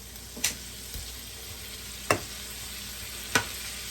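Shrimp cook in a hot pan with a constant close sizzle, broken by three sharp taps or clicks spaced a second or more apart.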